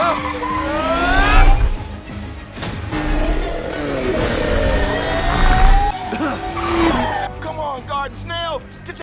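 Race cars in the animated film Turbo roar around the track, with tires squealing and skidding in rising and falling whines while a narrator talks over the action.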